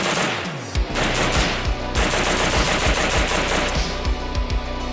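A WASR-10 AK rifle fired in a rapid string of about a dozen close, loud, evenly spaced shots, sharp cracks with ringing tails, and no voices.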